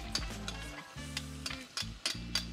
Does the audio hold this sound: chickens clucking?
no